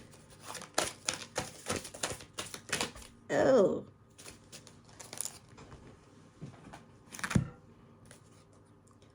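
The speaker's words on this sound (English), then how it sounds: "Gotta shuffle these different. These are big." Large tarot cards are shuffled by hand in a quick series of papery riffles and flicks, with one longer bridging rush near the middle, close and fairly quiet, and a brief spoken exclamation in between.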